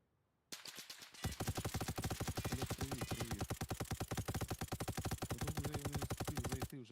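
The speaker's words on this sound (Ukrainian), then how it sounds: "Свої стріляють, палять мене." Rapid automatic gunfire in the military shooter game Arma Reforger hammers out in a long, even burst of closely spaced loud shots, continuing for several seconds at close range after a brief quiet start.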